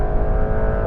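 A Porsche 911 GTS launches hard at a standing quarter-mile start, its engine roaring loud, dense and close without a break.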